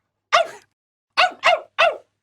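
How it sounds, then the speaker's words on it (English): A dog barks four times, one single bark followed by a pause and then a quick run of three, loud and close with silence between. "Gelert looked at his master and barked happily."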